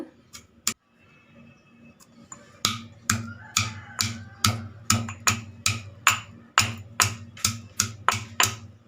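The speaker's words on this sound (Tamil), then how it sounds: "இப்படி கொஞ்சம் கொஞ்சமாக போட்டு உடச்சி எடுத்துக்கலாங்க" Turkey berries (sundakkai) being crushed a few at a time to break them open and free the seeds, a close series of sharp, evenly spaced cracks and taps in steady rhythm after a few scattered knocks.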